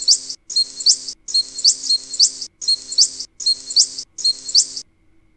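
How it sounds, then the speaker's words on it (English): A parrot gives six shrill, rhythmic squawks in quick succession, each lasting about half a second, clear and isolated with nothing behind them. "P for parrot."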